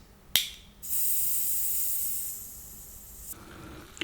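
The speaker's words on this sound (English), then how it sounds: "So I just have the fizz escape" A sharp crack as a cola can is opened, then a steady, bright fizzing hiss of carbonation escaping for a few seconds before it cuts off, close and fairly quiet.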